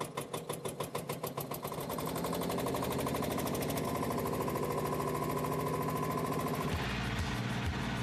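A vintage Porsche Junior tractor engine cranks over with a few rhythmic chugs, then fires and settles into a loud, steady, knocking diesel idle close by, with a change in engine tone near the end.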